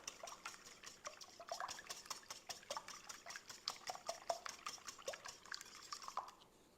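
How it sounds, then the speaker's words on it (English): Four extra large eggs whisked in a bowl, a quiet, rapid, steady ticking of the whisk against the bowl with light liquid sloshing, close by and without talk. "4 extra large eggs is good. Whisk them up."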